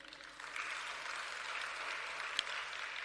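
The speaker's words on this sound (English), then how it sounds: "Another very, very strong applause for him." Audience applause for a speaker at a provincial climate change workshop: a faint, steady wash of clapping from a crowd, continuous for a few seconds with one sharp clap standing out.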